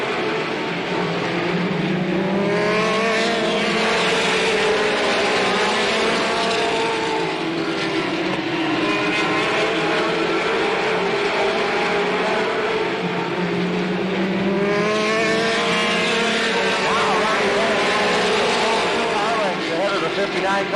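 Late model race cars circle Slinger Speedway in a continuous loud drone, engine pitch rising and falling as cars pass, with a public-address announcer talking over the noise.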